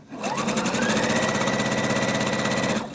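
A sewing machine stitches a hem on a Liberty skirt using elastic thread. Its close, steady mechanical whir runs for about three seconds, starting and stopping smoothly, with no voices.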